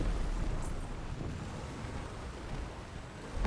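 Artillery strike explosions in a driving video game, heard as a dense, continuous low rumble of booms throughout, loud and close with no clear gaps between blasts.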